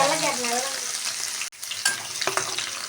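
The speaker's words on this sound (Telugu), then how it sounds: "నూనె అయితే కాగిపోయిన ఫ్రెండ్స్. ఆవాలు మెంతులు వేసుకోవాలా. ఎండుమిరకాయలు వేసుకోవాలండి. అల్లం కూడా వేసేసుకోవాలి." Mustard seeds, fenugreek, dried red chillies, ginger and garlic hit hot oil and sizzle loudly up close, a dense continuous crackle with brief pops and a short dip in the middle.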